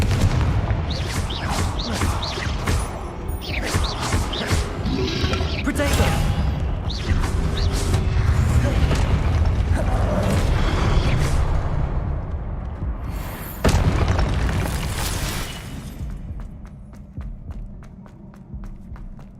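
Confringo fire spells exploding during combat in Hogwarts Legacy on Xbox Series X, loud booming blasts and crackling bursts over a dense, continuous battle din, with voices in the mix.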